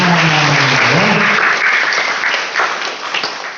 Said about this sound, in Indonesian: Mana nih tepuk tangannya dong.